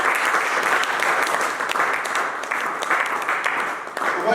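A church congregation claps steadily and loudly together, a dense sustained wave of applause with small swells and dips throughout.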